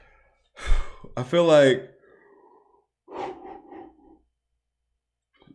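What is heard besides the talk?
yawning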